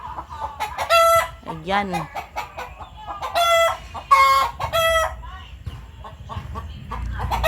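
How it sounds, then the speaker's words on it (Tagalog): Native chickens about to lay eggs cluck loudly and repeatedly, with a rooster crowing and sharp squawks in a busy, near farmyard, while a person speaks briefly over the noise. "Kung naririnig nyo, sobrang ingay ng chicken."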